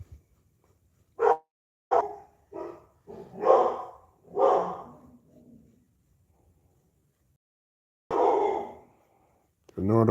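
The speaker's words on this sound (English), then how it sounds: "My dog's barking again." A pet dog barks in short separate bursts at a spaced, irregular rhythm, fairly close and clear against an otherwise quiet room, with a longer bark after a pause.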